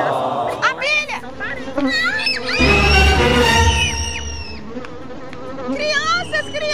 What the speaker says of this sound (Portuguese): Olha, abelha!